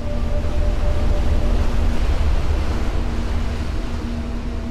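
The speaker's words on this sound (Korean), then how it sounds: "이 여정에서 파도들이 합쳐지며 태평양의 거대한 파도가 된다" Large Pacific Ocean waves rolling in toward Hawaii after crossing the open sea, a steady, loud, broad surf roar holding throughout with a low rumbling undertone and faint wind.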